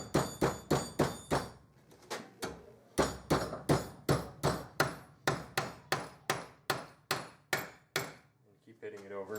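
Repeated hammer blows strike a snowboard boot part clamped in a metal vise, about twenty sharp, ringing hits in a steady rhythm with brief pauses, close and loud.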